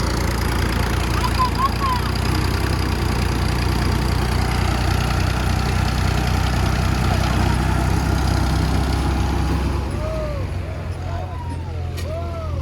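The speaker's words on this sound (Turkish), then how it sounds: "traktörümüz maalesef kuma gömüldü. O yüzden hemen başka bir traktörden yardım aldık." A tractor engine runs loud and steady while pulling another tractor stuck in sand, a continuous heavy rumble that eases slightly near the end.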